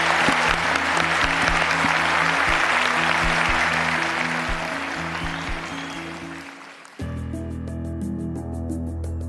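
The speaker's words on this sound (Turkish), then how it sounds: "Bütün vokal koçlarımız için bir alkış alabilir miyim?" Studio audience applauding the vocal coaches on a televised Turkish singing competition, steady clapping over a sustained musical bed, fading out near the end before a short burst of rhythmic music takes over.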